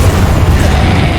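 Bombarda spell blast in Hogwarts Legacy, a loud, deep booming explosion filling the whole moment with dense low rumble, no talk over it.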